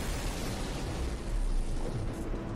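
Cannons exploding during a space battle with a dreadnought in the video game No Man's Sky, a dense, continuous rumbling roar of blasts, loud and unbroken, with no talking.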